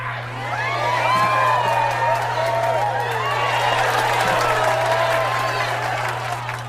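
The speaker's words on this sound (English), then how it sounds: "Everybody please give them a round of applause." An award-show audience applauds and cheers, a dense roar of clapping laced with whoops and shouted voices, holding strong throughout over a low steady hum.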